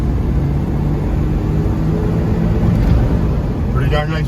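A 1993 Ford Bronco driving down a side street, its engine and road noise forming a steady, loud, continuous rumble from inside the cab with no clear gear-change break.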